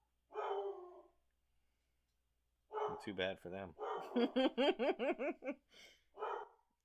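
Several household dogs bark in a rapid, loud run of yaps and bow-wows close to the microphone, after a person's short spoken phrase, then a final bark trails off.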